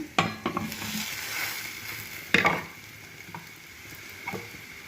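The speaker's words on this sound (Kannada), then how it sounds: "ಆನಿಯನ್ ಸ್ವಲ್ಪ ಗೋಲ್ಡನ್ ಕಲರ್ ಬಂದ ನಂತರ ನಾನಿಲ್ಲಿ ಮಶ್ರೂಮ್ ಹಾಕ್ಕೊಂಡು ಫ್ರೈ ಮಾಡ್ಕೊಳ್ತೀನಿ" Mushrooms and golden onions fry in a pan, giving a moderate sizzle with a few sharp stirring scrapes and knocks of a spatula against the pan.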